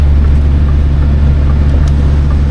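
A truck's diesel engine hauling a trailer at Cairnryan gives a steady, loud, close low rumble that holds without a break, with no talking over it.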